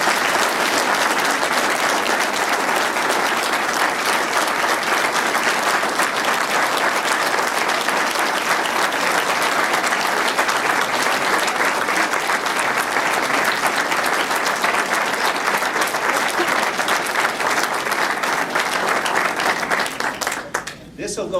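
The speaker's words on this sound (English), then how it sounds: "got a standing ovation from half the crowd" Sustained loud applause from a large audience giving a standing ovation to Greg Enion, the newly appointed director and chief executive, steady dense clapping filling the whole stretch before tapering briefly at the end.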